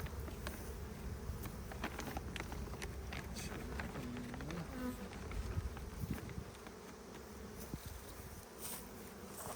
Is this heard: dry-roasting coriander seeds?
no